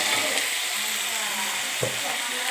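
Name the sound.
tomato pieces frying in a pan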